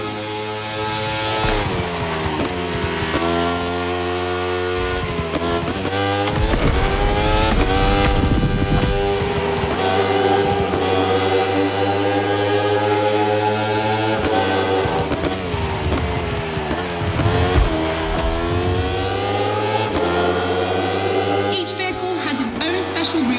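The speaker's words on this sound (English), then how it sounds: "The rally car has already changed its course to reach the dirt." A rally car engine in The Crew Motorfest racing game revs loudly and continuously, with its pitch climbing and dropping through gear changes for the whole stretch.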